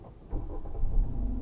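A manual car's engine catches and starts with a brief low rumble that swells and holds steady, close by, during an uphill driving lesson.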